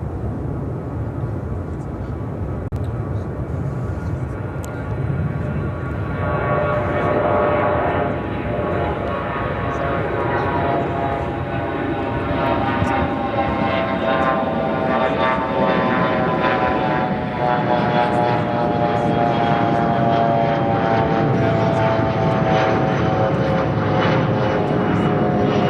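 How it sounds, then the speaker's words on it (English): A Contour Aviation CRJ-200LR jet takes off at Chicago O'Hare, its engines building from a steady roar into a loud, sustained whine with rising tonal hum that stays strong throughout. "This is Contour Aviation 3068 taking off to Kirksville on the CRJ"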